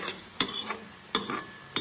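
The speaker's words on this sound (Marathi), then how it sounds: "आणि यालाही छान परतून घेऊया।" Strawberry jam being stirred in a pan with a utensil, sharp scraping strokes against the pan at three spaced moments with soft bubbling and sizzling between them, close and clear, no talk.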